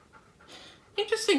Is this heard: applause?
no